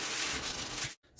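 80-grit sandpaper rasps steadily over body filler on a rusty car panel, a close, continuous scratchy rubbing that stops abruptly near the end before a brief softer resumption.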